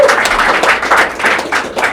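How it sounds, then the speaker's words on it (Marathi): An audience claps for a comedian at a Marathi roast show, a dense wash of applause filling the whole moment, loud and close with rhythmic swells and no clear talk over it. "टाळ्या एकदा मराठी कपिलसाठी भाई"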